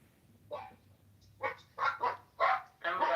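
Dogs bark in a quick cluster of sharp, close woofs, four or five loud barks bunched near the end after a softer first yelp, over faint background hum.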